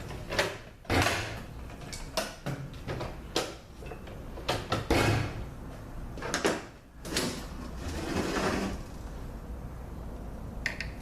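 A metal part is slid and knocked out of an 8L90 automatic transmission during teardown, giving scattered clanks, scrapes and sliding metallic knocks at close range over a hissy shop background.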